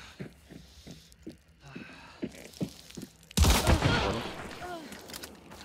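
Close-range shotgun blasts and gunfire in Hunt: Showdown, several sharp shots early on before a loud, heavy burst of fire rings out and lingers, with a voice talking briefly underneath.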